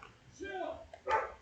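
Excited pet dogs give a short yip and a quick bark in the background, brief and fairly faint against the room.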